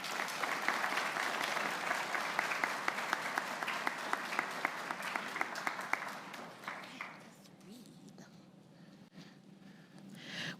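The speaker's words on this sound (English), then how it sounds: "Let's give these students a round of applause." Audience applauding at a high school commencement ceremony: sustained, moderately distant clapping from a large crowd for about six seconds, then fading into quiet room tone.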